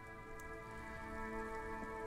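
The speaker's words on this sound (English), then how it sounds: "It's raining again." Rain falls in the video game Disco Elysium, a soft steady patter blended with a low ambient musical drone, quiet and continuous.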